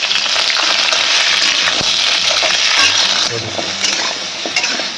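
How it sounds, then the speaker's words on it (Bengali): Drumstick stems and pumpkin frying together in a pan over high gas heat, a steady close-up sizzle running throughout with occasional light stirring clicks and scrapes. "তখন ডাঁটা আর কুমড়ো আমি একসাথে দিয়ে হালকা করে ভেজে নেব।"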